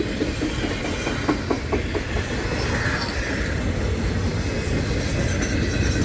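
A manifest freight train rolls past with steady clickety-clack of wheels over rail joints and a constant low rumble, loud and sustained.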